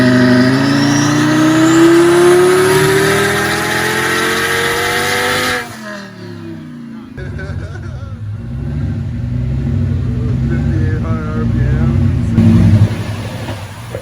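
Boosted Lamborghini engine on a dyno at about 10 to 12 pounds of boost, revving loud and rising steadily in pitch before cutting off, then idling and blipping with a rough burble while people talk nearby.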